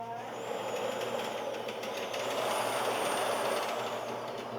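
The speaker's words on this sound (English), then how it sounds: "I'm gonna add some more steam on this side now." A steady loud hiss of steam being injected into a bread oven, rushing under a faint whistling tone, continuous and close.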